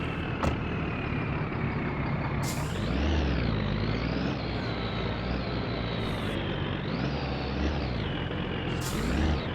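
A vehicle backing up in the video game My Summer Car: a loud, steady engine drone runs throughout, with the revs swelling and dipping a few times and no talking.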